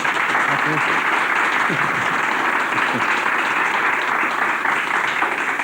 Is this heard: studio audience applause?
yes